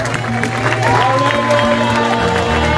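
A church congregation claps and cheers for the Lord, loud and close, with sustained applause and scattered shouts, while music plays underneath.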